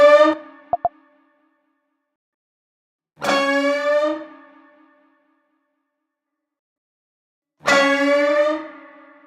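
An electric center guitar track plays back in a funk song breakdown: three separate bright, echo-tinged stabs, each ringing about a second and a half, spaced by clean silence, with no talking.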